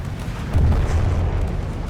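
Torpedoes strike a ship in the naval combat game From the Depths, a deep rumbling boom swelling midway and rolling on as a sustained low roar.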